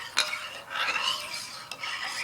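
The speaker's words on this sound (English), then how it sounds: "And then you just start stirring." A spoon stirs a homemade liquid dish soap mixture in a pot, giving a close, steady scraping swish with two brief clinks against the side. No one speaks.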